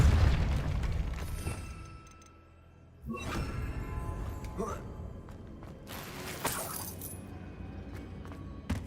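A Repulsor spell is cast in Hogwarts Legacy: a heavy booming blast opens, fades, then a second burst hits with whooshing, crackling magical effects, and voice sounds mixed in.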